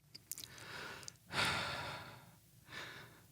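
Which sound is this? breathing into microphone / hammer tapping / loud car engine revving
breathing into microphone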